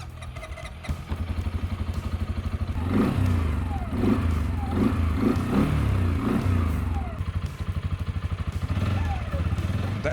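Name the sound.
CFMoto Cforce 400 4x4 ATV engine running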